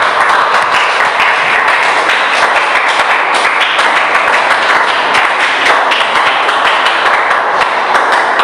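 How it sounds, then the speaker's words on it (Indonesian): A classroom group claps after a student group finishes presenting, a loud, sustained patter of many hands with sharp individual claps and a few thumps standing out, continuing steadily for several seconds without talk. "tepuk tangan"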